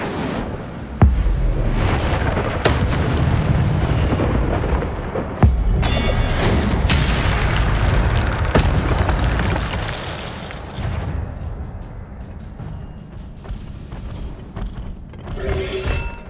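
Fire spell explosions in the Hogwarts Legacy video game, with loud booming blasts followed by sustained roaring, crackling rumble and a sharp thump midway, fading toward the end.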